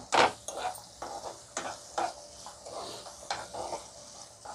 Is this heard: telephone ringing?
no